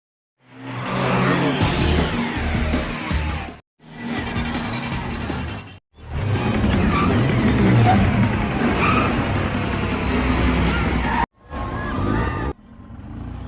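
Street race cars in a Fast and Furious film roar and skid with screeching tires, loud and continuous across several cuts, with engine revs and brief gaps between shots.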